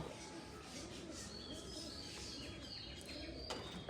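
Pigeons at a pigeon farm, soft cooing and chirps mixed with occasional wing flutters against a constant low background hum.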